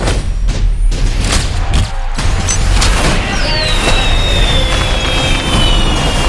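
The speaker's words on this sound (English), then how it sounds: "Are those fireworks?" Fireworks exploding in a rapid series of booms and crackles, loud and close, with whistling streaks and a dense rumbling background.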